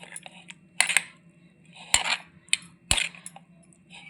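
A spoon mixes raita with cumin powder and salt, striking the bowl in three sharp clinks with softer scraping between, close and clear with no talk.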